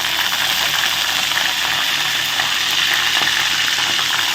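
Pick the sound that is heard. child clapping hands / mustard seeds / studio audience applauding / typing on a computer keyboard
mustard seeds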